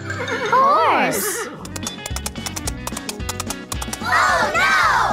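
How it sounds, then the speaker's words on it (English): A horse whinnies loudly and close, a wavering neigh that rises and falls, followed by a run of rhythmic hoof clip-clops and then a second long neigh at the end. "Horse."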